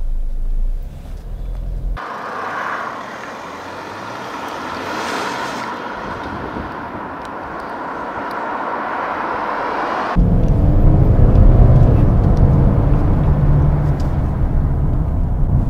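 A Mercedes GLB 220d diesel SUV pulls away and drives on, its engine note and tyre and wind rush building steadily, then growing louder and rougher as speed rises.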